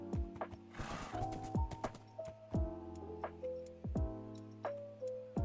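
A horse in Minecraft GregTech New Horizons, with repeated short snorts and whinny-like calls mixed with clip-clop hoof ticks, close and intermittent, with no talking.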